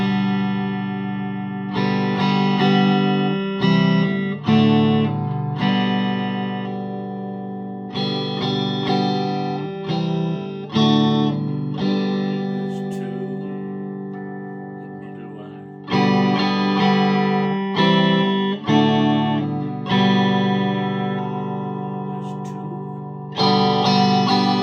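A PRS SE Paul's Guitar electric guitar plays on its neck pickup through effects, ringing chords and single notes in bursts with pauses, clean sustained tones with slight chorus and echo, no voices.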